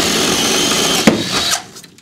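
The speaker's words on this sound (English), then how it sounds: "So I'm going to drill a hole right there." A power drill boring a hole into an ICF insulated concrete form block wall, a loud steady whine running for about a second and a half before winding down.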